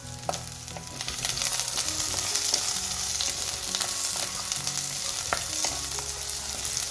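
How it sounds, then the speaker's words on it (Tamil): Onions crackle and sizzle in hot oil for a Sri Lankan fish curry, with occasional stirring knocks against the pan and no one speaking. "வெங்காயம் போட்டு நல்லா தாளிக்க வேணும்."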